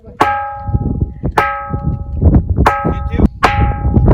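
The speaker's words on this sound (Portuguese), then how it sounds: "emitir um som metálico quando é percutida com um objeto duro, lembrando o toque de um sino" A rock at Lajedo de Pai Mateus, Brazil, struck with a hard object rings out with clear metallic, bell-like tones, four distinct strikes each decaying slowly, with some talk and rumbling between.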